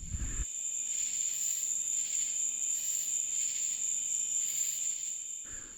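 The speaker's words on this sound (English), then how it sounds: "And the bugs are out pretty heavy already." Crickets or similar insects trilling at night in the Mojave desert near Boulder City, a dense continuous high chirring chorus, loud and steady throughout with no talk.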